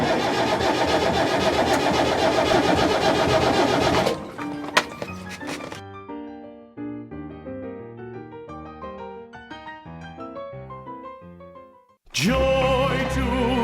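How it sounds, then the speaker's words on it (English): A diesel engine cranks loudly for a few seconds after its fuel injectors are bled, then cuts out, leaving music playing alone before the engine roars back in and runs steadily. "we're going to try turning over the engine after we bled the engine"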